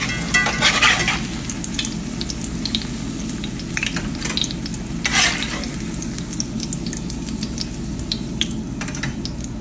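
Squash patties fry in a hot pan with a steady loud sizzle and crackle throughout, with a few brighter spattering bursts along the way.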